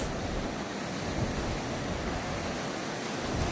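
Steady rushing water of a flowing river current, a continuous broadband wash that stays even and fairly close throughout, with no voices.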